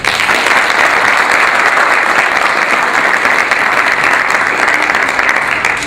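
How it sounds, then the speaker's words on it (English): Audience applause welcoming a lecturer to a Texas ACSM lecture, sustained loud clapping from a full room that continues steadily throughout without pause. "if you would start by giving him a round of applause"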